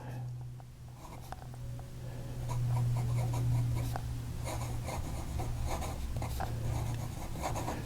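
An extra fine fountain pen nib scratches smoothly across paper in a continuous run of soft strokes, close and quiet over a low steady hum.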